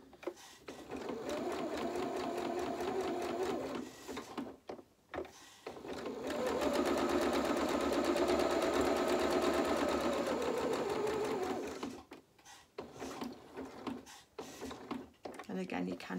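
A sewing machine stitches fabric along a tight curve on a polka dot doll dress, running in two bursts of steady whirring with a pause and clicks between, while a person talks nearby.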